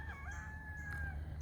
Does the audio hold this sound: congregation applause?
no